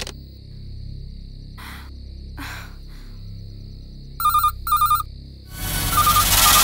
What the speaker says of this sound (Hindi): इस लैंडलाइन पर रिपीटेडली कोई फोन कर रहा है।